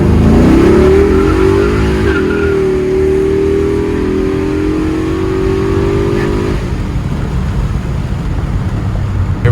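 A 1995 Impala SS with a 383ci big-cam engine revs under throttle, a loud, close engine note climbing in pitch, then holding a steady rumbling drone before easing off.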